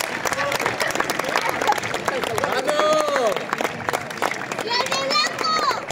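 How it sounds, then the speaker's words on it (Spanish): Crowd applause and cheering from spectators at the final of the El Espartal 2023 slow-ball frontenis championship, steady clapping throughout with voices and shouts mixed in. "Fuerte aplauso, por favor."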